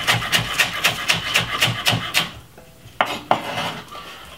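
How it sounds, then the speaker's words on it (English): A knife cuts spring onion on a board in quick, regular strokes, about a dozen evenly spaced taps of the blade, then pauses and adds a couple of final cuts, close and fairly loud. "Cut up some spring onion"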